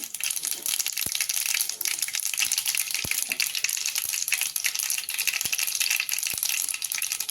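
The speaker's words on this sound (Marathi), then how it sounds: "आपलं तेल तापलेलं आहे मोहरी टाकून घेऊ आपण" Mustard seeds spluttering in hot oil for tempering, a dense, steady crackle and sizzle close by with occasional sharp pops, no speech over it.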